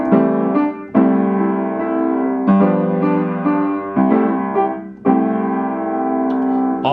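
Piano playing a nursery rhyme in full block chords in the right hand with bass notes in the left, loud and close, with chords struck in steady phrases.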